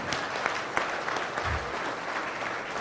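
An audience at a farm bill listening session in Minnesota claps steadily for a few seconds, a dense, moderately distant round of applause with a faint low thump partway through.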